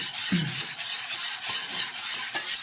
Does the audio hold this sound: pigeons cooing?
no